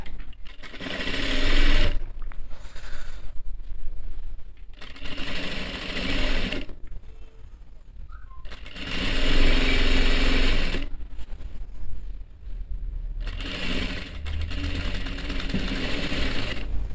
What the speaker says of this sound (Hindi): इस तरह से हम एक पैर की सिलाई मार देंगे और उसके बाद इस पर हम एक डबल सिलाई और मार देंगे।